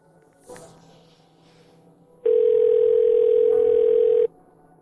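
A telephone handset gives a loud, steady, unbroken dial tone for about two seconds while a call is placed, after a faint click and soft rustle in an otherwise quiet room.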